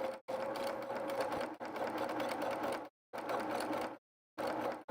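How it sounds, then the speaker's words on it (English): A sewing machine with a stitch regulator and darning foot stitches a quilted pillow cover in rapid, steady mechanical bursts, pausing briefly twice between runs. "Now I have a sewing machine that has a stitch regulator"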